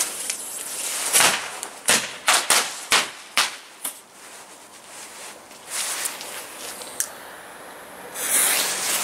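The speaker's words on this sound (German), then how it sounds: "Knallfrosch." A Knallfrosch jumping-jack firecracker going off outdoors: a rapid, irregular string of sharp cracks and pops, about eight bursts bunched in the first few seconds, followed by hissing and a few scattered weaker pops.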